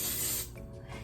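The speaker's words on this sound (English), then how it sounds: "So do you want me to spray it? Yes, spray it." Cooking spray hisses from a can onto a waffle iron set on a sheet pan, a loud steady spray for about half a second that then cuts off, leaving quieter faint rustling.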